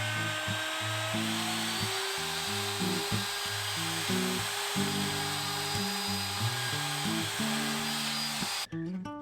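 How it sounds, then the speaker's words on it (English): A router fitted with a cove bit cuts a finger groove into a heavy wooden cutting board, its steady high whine shifting in pitch as the bit bites and eases through the wood, ending abruptly. "route a finger groove on each side with a cove bit"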